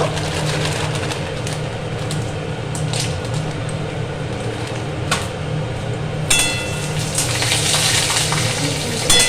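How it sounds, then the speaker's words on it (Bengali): Bori lentil dumplings frying in hot oil tempered with cumin, bay leaf and dried chillies, a steady close sizzle with soft crackles that grows brighter and louder toward the end, no talking. "প্রথমে বড়িগুলো ভেজে নেব"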